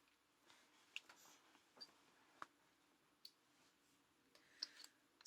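Light switches are clicked off in a quiet room, leaving a few faint, sharp clicks spaced apart with low background hiss between them.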